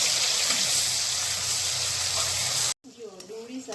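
Onion paste hits hot oil already holding mustard seeds and cumin, a loud steady sizzle and frying hiss that cuts off abruptly near the end, followed by quieter stirring and a voice.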